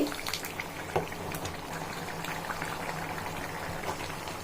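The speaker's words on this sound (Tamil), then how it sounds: "இப்போ தண்ணி ஊற்றி கறி நல்லா வேகட்டும் ஒரு இருபது நிமிஷம்" Chicken thanni kuzhambu, a thin water-based curry, simmering in a pot: a steady bubbling boil runs throughout at moderate level, with a few louder pops near the start.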